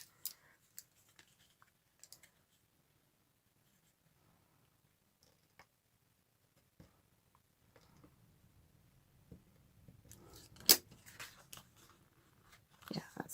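Paper cut with scissors while making a handmade Christmas card with a champagne bottle design: faint, sparse snips and small clicks, quiet at first and then busier with rustling toward the end.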